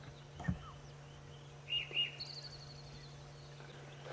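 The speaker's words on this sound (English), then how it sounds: "That is a Karachani thrush." A Kurrichane thrush calls on an early-morning safari drive, giving a few short, thin whistled notes at moderate distance over a steady low engine hum.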